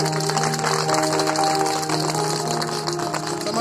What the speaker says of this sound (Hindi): हम इनका एक बार जोरदार तालियां बजाकर स्वागत करते हैं